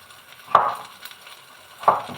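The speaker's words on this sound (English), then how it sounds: "Now rest of the potatoes I am chopping." Potatoes being chopped on a board in a home kitchen for a French bean and potato dish, with two distinct knife strikes about a second apart against faint background sizzling.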